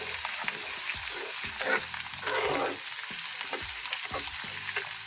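Garlic and ginger paste fries in hot oil for beef achar gosht, giving a steady close sizzle with brief louder bursts as the pan is stirred.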